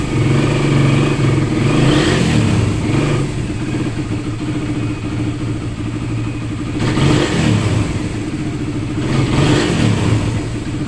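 A motorcycle engine with a freshly cleaned carburetor revs loudly and close in uneven bursts, sputtering and stumbling as it misfires and lacks pull.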